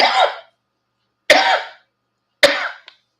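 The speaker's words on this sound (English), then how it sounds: "I'm already coughing" Three harsh, close coughs come about a second apart, each a sharp burst that fades quickly into silence, with a tiny trailing rasp after the last.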